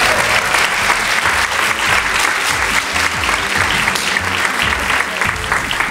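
Studio audience applause on a Spanish TV game show, a dense, steady roar of clapping filling the whole stretch at loud, even volume.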